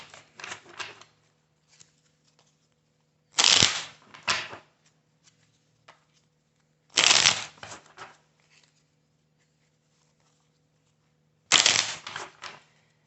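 A tarot deck is shuffled in three separate bursts of riffling card noise, close and crisp, with quieter pauses between them.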